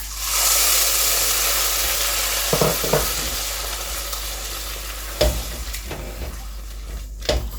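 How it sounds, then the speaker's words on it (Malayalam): Tomato puree sizzles in a pan of frying spices for a chicken tikka masala, with steady hiss throughout and scattered scrape-and-clatter of stirring in the latter half. "അതിനുള്ളിലേക്ക് നമ്മൾ എടുത്ത് വെച്ചിരുന്ന ടൊമാറ്റോ പ്യൂരി ഇല്ലേ, അതങ്ങ് ആഡ് ചെയ്യുവാണേ"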